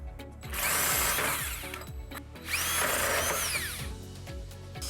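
A power drill drives a 1.125-inch hole saw into the steel frame of a 2021 Jeep Renegade, two loud sustained grinding bursts with a whining tone, the bit winding down between them.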